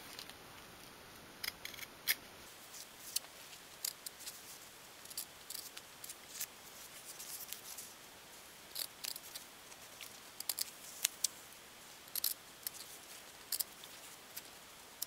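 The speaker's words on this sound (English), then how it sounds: "take your scissors, and we're going to cut away this square at the top at each corner." Small scissors snip through craft foam for a 1/12 scale miniature bench, giving faint, irregular cutting clicks and crunches spread across a quiet room.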